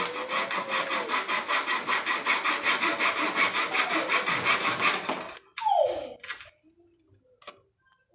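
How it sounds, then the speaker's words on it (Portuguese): A dull hand saw rasps steadily through a wooden board in quick regular back-and-forth strokes for several seconds, then stops, followed by a few scattered knocks and handling noises. "aí eu vou serrar aqui, ó"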